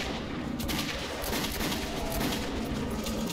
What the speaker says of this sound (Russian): У нее такой долгий темп стрельбы этого револьвера на самом деле.